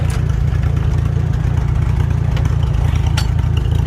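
A 1943 Farmall H tractor engine idles low and steady, a close, even, pulsing chug that holds its rhythm throughout with no pauses.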